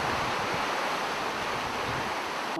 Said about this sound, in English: we've got some big winds coming in now